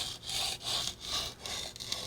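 A culinary knife being sharpened on a sharpening stone makes a quick series of rhythmic scraping strokes, about five even passes, close and clear with no talking.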